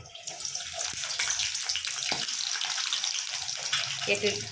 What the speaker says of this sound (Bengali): তো এবার আমি দিয়ে দিচ্ছি বেগুনগুলো।